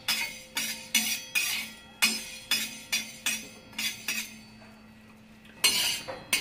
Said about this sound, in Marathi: ही मेथी दाणे पण आपल्याला असे भाजून घ्यायचे. याला पण थोडंसं भाजून घेऊ.